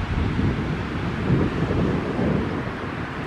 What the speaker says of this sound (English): because it's too windy